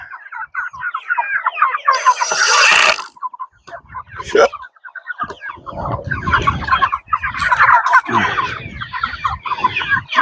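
Chickens and turkeys on a small farm cackle, cluck and gobble nearby in a busy overlapping chorus, with loud bursts of squawking and a few voices talking briefly underneath.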